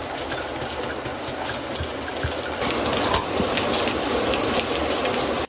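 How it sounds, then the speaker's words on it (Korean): Dense, steady downpour hissing loudly and close by, with constant patter that grows slightly heavier midway; no voices. "오늘 좀 감성이 지리는 게 비가 엄청 와요. 이게 빗소리야"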